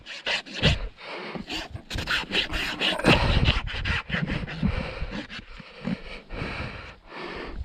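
A farrier's rasp files the wall of a horse's hoof while the flares are taken off, giving a close, steady run of coarse scraping strokes that overlap one another with no pauses.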